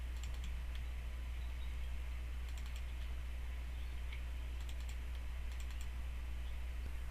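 A computer mouse double-clicks in quick pairs of sharp, faint clicks, repeated four times over a low steady hum.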